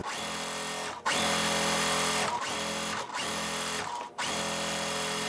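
A sewing machine chain pieces quilt patches for a basket block, running in steady bursts with short pauses between seams, close and loud with no talking.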